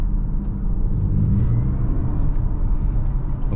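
A 2023 Genesis GV60 electric SUV plays its synthetic G engine drive sound, a steady loud low rumble with a faint whir that holds throughout with no talking.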